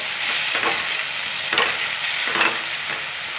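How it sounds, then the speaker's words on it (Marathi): Onion with a green chilli, ginger and garlic paste sautés in oil, a loud, dense frying hiss with rhythmic stirring scrapes and no speech. "परतून घ्यायचं म्हणजे कांदा पण परतला जातो आणि हिरवं वाटण पण परतलं जातं"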